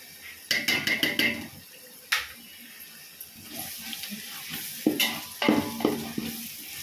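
A spoon scrapes and clatters against a frying pan in quick bursts while stirring turmeric powder for chicken biryani, over a soft background sizzle, with a few pauses between stirring strokes.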